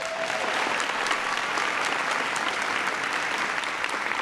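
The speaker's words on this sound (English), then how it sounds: "Give him a big round of applause." Steady, dense applause from a large audience in a high school gymnasium or auditorium during a presidential visit, filling the whole stretch evenly without pause.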